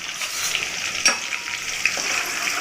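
Crushed garlic, cloves and cinnamon sizzle in hot oil in a pan, a bright steady crackle with a couple of brief clinks from a utensil.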